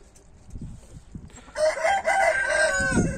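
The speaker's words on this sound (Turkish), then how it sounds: "Tavuklar birbirini dövüyor." Chickens fighting in a poultry flock with upper respiratory disease: scuffling and flapping, then loud squawking and crowing calls from close by, sustained over the second half.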